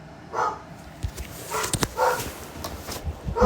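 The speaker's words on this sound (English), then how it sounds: "Sorry, that's my dog." A pet dog barks indoors in several short, sharp bursts spaced irregularly, moderately close, with a few thumps between barks and no talking during them.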